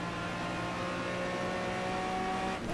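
An Aston Martin V12 Vantage racing at Monza in the Project Cars video game, a steady high engine drone held at constant revs, loud and continuous with no talking.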